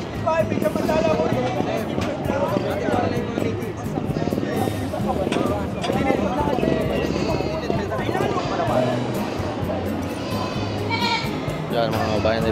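Goats bleat repeatedly amid the busy noise of a livestock market in Padre Garcia, Batangas, with crowd babble, hoof clatter and people talking throughout, the animal calls mixed into a loud, dense background.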